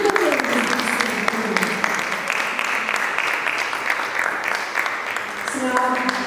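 An audience at an International Women's Day poetry, music and debate event applauds the women performers, a steady patter of clapping that runs the whole time beneath a voice speaking over a microphone.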